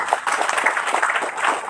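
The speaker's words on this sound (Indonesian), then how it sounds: "Tepuk tangan." An audience claps through a short stretch at a formal address by a foundation supervisor in Indonesia, steady, fairly close applause with no speech over it.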